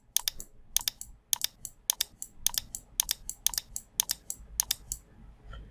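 Quick keyboard shortcuts tapped on a computer keyboard, pressed in short clustered bursts of crisp clicks that repeat steadily, close and fairly quiet, with no voices.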